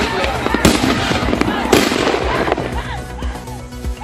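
Loud firecrackers set off by forest officials to drive an elephant back into the forest burst with sharp cracks and scattered popping, a couple of big bangs standing out amid ongoing crackle nearby.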